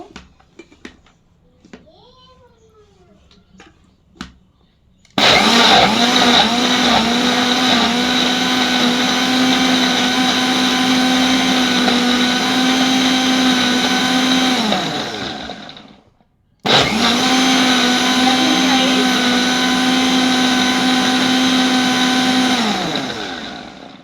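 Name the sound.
blender blending ingredients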